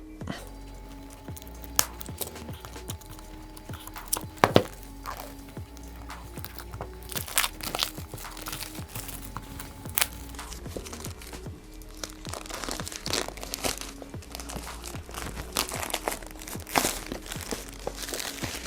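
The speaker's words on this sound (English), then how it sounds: "now let me proceed with peeling off this foil" Protective foil peels off a new Logitech G502 Lightspeed mouse in a long, close run of crinkling and crackling, with sharp snaps and crunches scattered through, louder toward the end.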